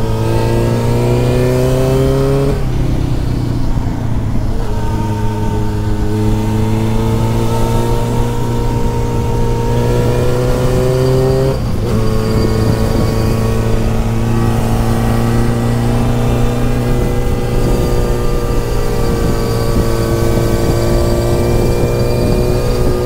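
A 1979 Honda CB 750 Four K motorcycle with 155 original kilometres idles and revs loudly up close, its engine note rising and falling in smooth sweeps with two distinct throttle blips.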